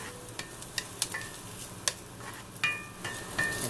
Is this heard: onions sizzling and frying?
yes